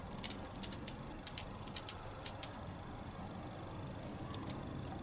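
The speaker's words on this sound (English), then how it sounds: "Get our screwdriver. And then just screw that one in." Small clicks and ticks in irregular bursts as a screwdriver drives a post screw into a Helo 30mm RTA vape atomizer, quiet and close with no talking.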